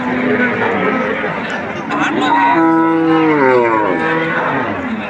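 A cow moos in a long, drawn-out call at a busy rural cattle market in Nutanhat, Joypurhat, rising over constant crowd chatter and people talking nearby.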